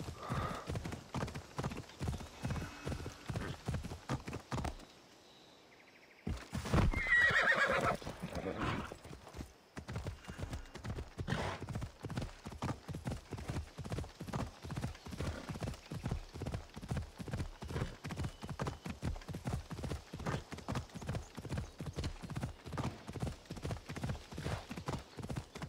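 Horse hooves clip-clopping at a steady riding gait in Assassin's Creed Odyssey, loud and continuous, broken by a brief pause and a short burst of commotion with a whinny before the rhythmic trotting resumes.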